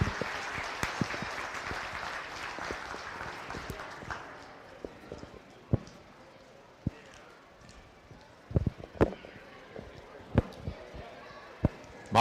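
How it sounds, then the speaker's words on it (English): Audience applause at a county beef show ring, steady clapping that fades out over several seconds, followed by scattered sharp knocks and hoof-like thuds from the cattle and people moving about. "Let's go ahead and give Noah a nice big round of applause for the hard work that he's put in."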